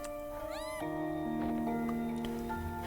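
A cat meows in the video game Impostor Factory, one rising, drawn-out meow near the start, heard over steady game music tones.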